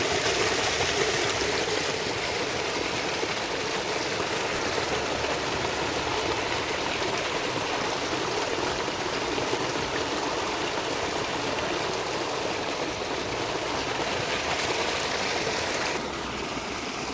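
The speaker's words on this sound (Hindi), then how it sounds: "आप इस झरने का कलकल करके जो स्वर है वो सुन रहे हो।" Water tumbling down a waterfall in the cool, quiet Himachal hills, babbling and rushing steadily and loudly at close range, with no let-up for the full length and a slight shift in tone just at the end.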